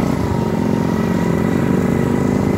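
A mini bike's small engine droning steadily while riding, a loud, close, continuous buzzing hum with no breaks and no voices over it.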